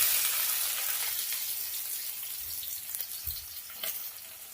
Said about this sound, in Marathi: आता थोडासा लाल पडला त्याच्यानंतर कांदा टाकून घ्यायचा